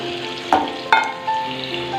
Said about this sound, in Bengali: আলুগুলো একটু ভালোভাবে ভাজা হোক